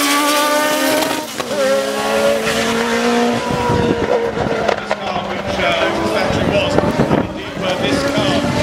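A race car on a Barbados circuit during the 2014 motorsport season revs hard through a tricky dipping corner, its engine note rising and falling through gear changes. The car is loud and close, and a commentator talks over it.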